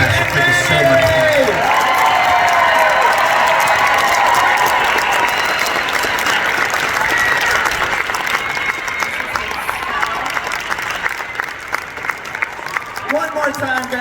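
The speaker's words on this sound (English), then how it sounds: "Please give her a round of applause" Audience applause fills a fan convention panel hall for the Psych cast, sustained and loud throughout with crowd noise and scattered cheers, a voice briefly audible over it near the end.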